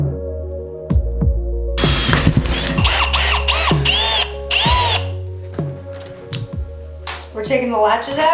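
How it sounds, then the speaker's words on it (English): Power drill boring holes through the sheet-metal front door of a school bus, loud whining bursts starting and stopping with metallic rattles and clanks, people talking around it. "We're taking the latches out so that we can drill the holes here through the sheet metal."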